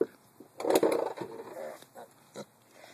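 A pig grunts and snorts in a short burst of low, rough oinks while being scratched against a wall, close up, followed by a few softer grunts, with no talk over it.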